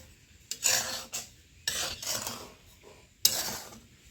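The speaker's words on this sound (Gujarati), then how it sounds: "આવી રીતના આપણે થોડો થોડો હલાવી નાખીએ એટલે મીઠું વ્યવસ્થિત રીતે ગરમ થઈ જાય" Salt heated in a pan over a high gas flame is stirred in three separate bursts, each a close, gritty scrape of granules and utensil against the metal pan, with short quiet gaps between them.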